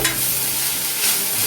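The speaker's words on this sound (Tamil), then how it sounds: "சேர்த்து இதை நல்லா ஒரு 1 நிமிஷம் சாட்டே பண்ணிக்கலாம்." Ginger and garlic paste sautés in a pan for an Indian-style paneer kurma: a loud, close, continuous hiss of frying with brief surges where the paste is stirred, and no talking over it.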